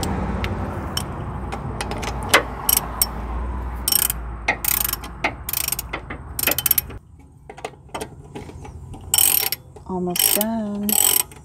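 Ratcheting wrench tightening a bolt during brake and rotor work on a car, giving close, loud bursts of rapid clicking in repeated strokes separated by brief pauses and metallic clinks.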